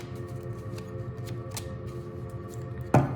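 A deck of oracle cards is shuffled: a soft, steady riffling rustle held close for a few seconds, ending in a sharp tap as the deck settles, with no one speaking.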